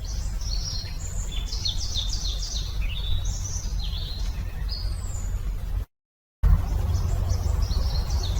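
A bird in a forest calls over and over in short high chirping phrases, fairly clear above a low steady rumble, with a brief dropout partway through and no voices.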